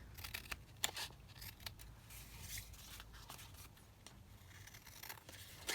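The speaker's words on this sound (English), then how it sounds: "if I just cut my tag down slightly on either side" Scissors trimming the sides of a handmade fabric tag, a series of close, crisp snips and rustling cuts in irregular rhythm, with no talking.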